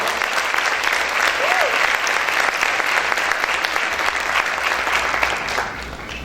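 Vigorous applause fills a church as the congregation claps hard and continuously for about six seconds, a thick, even roar that eases slightly at the end, with a short vocal cry near the start.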